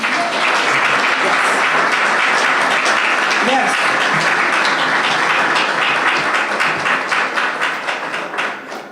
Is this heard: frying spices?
no